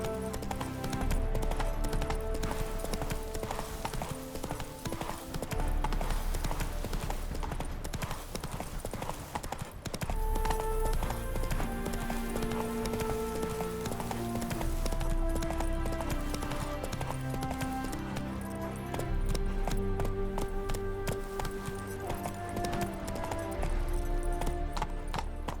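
Hooves clip-clop steadily as a horse gallops in The Witcher 3: Wild Hunt, the rhythmic footfalls running throughout under dense game music and occasional talk.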